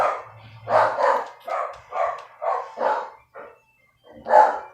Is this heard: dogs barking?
yes